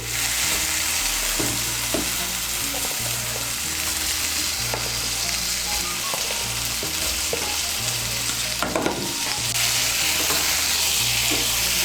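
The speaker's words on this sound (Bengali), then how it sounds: "ঝিঙে আর আলুটাকে আরেকটু কষিয়ে নেব মশলার সঙ্গে" Ridge gourd and fried potato being sautéed with spices in a pan for a Bengali fish curry: steady, loud sizzling frying throughout, with occasional scraping stirs of a spatula, no voices.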